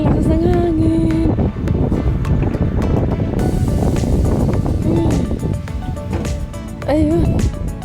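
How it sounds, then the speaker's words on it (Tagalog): Strong wind blows at the top of a tall tower, roaring and buffeting the microphone in loud continuous gusts, with voices briefly heard over it. "Tsaka ang lakas ng hangin."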